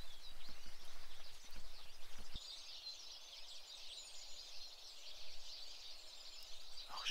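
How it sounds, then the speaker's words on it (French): Faint birdsong and chirps carry through steady outdoor ambience along a hiking trail on the GR54 route, distant and soft with no one speaking. "tous ces bruits d'oiseaux"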